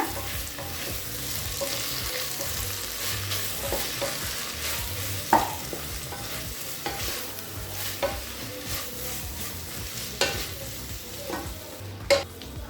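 Vegetables for vegetable biryani sizzle steadily in a hot pan while a utensil scrapes and stirs, with occasional sharper clinks against the pan.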